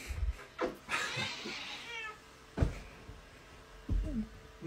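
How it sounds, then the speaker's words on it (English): A playful cat lets out a drawn-out, angry-sounding meow up close, mixed with scuffling thumps and rustles, and shorter chirps and bumps follow in a quiet room with no talking. "Thought the meow was angry meow"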